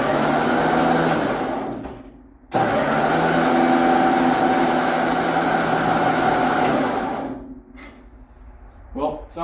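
A 1950s Ford 8N tractor with a faulty starter grinds through two long cranking bursts, close and loud, each cutting off without the engine catching, followed by a few short sputtering clicks.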